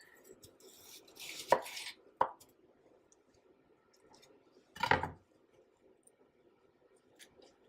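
A knife slicing through ackee and saltfish ingredients on a cutting board, three distinct cuts: a sharp chop, a lighter quick one, then a longer crunchy slice, with quiet gaps between.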